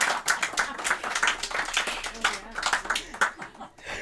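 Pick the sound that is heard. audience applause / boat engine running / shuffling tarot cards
audience applause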